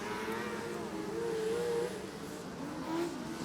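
Race cars run together through a turn on a speedway track during a 600 feature, a steady, fairly distant engine drone with slight pitch swells.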